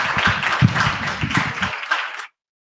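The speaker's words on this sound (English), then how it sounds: "let's give them a big round of applause." Brief applause from a small audience after an artist panel at an anniversary event, a loose patter of claps lasting about two seconds before stopping abruptly.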